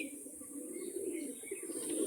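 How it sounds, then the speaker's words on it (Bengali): A pair of Kalpetiya Madras pigeons coo softly at close range, a low continuous murmuring in a quiet room. "এখন যে পায়রা জোড়াটা আপনারা দেখবেন এক জোড়া কালপেটিয়া ম্যাড্রাস"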